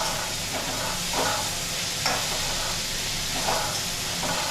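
Kande pohe of flattened rice and onions being stirred in a frying pan: a constant sizzling hiss, with a spoon scraping and turning the food every second or so, close and alone.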